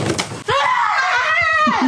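A woman lets out a loud, sustained scream lasting over a second, just after a short thump, inside a house in the Thai countryside.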